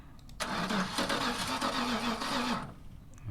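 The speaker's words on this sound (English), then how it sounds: "That is a broken car." A broken car engine in a video game cranks and sputters in a rough, stuttering start lasting a couple of seconds, then cuts off.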